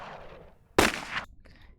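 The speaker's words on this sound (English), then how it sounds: "We're looking for like pistol shots" A single sharp pistol gunshot sound effect, a sudden loud crack with a brief ringing tail, set between quieter background noise before and after.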